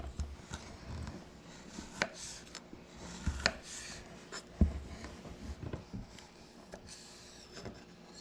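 A knife slices black winter Perigord truffles, giving scattered soft cuts and several sharper taps against a board over several seconds, faint and close, with light kitchen handling around them.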